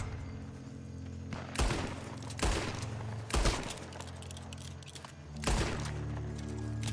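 Bursts of gunfire in the Western online shooter Red Dead Online, with four loud clustered volleys spaced a second or two apart over a steady low background hum, no voices.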